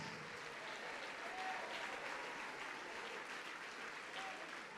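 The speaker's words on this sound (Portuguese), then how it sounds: "Olha quanta gente chegando, vamos aplaudir mais." A church congregation applauds steadily for several seconds, a dense sustained wash of clapping at moderate distance with no break or swell.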